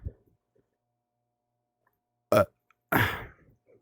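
Two separate burps, a short one and then a longer rougher one, close and clear against near silence.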